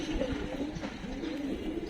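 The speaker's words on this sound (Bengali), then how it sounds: "আজকে কবুতরটি ছাড়লাম," Female pigeons, newly let out after a week of rain, coo in soft, repeated low throaty rolls close by, over a light background hum, with no talking.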